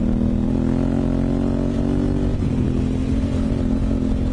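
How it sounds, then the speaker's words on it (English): A 2018 Honda Africa Twin motorcycle engine pulls steadily under light throttle, a loud, continuous low drone that holds even and close throughout without a break. "I'm hardly turning that throttle. This thing's going, Mark, come on, give it to me."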